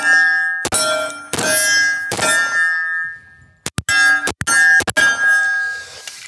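A 1911 pistol fires PMC jacketed hollow point rounds at a range. Several loud, sharp reports come close together, each with a ringing metallic tail. Two are spaced about a second apart, then a quicker string follows after a pause.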